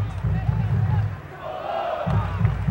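Paraná supporters in the stadium stands roar and chant in loud waves, a dense crowd swell that dips briefly in the middle and surges again, with a voice talking over the noise.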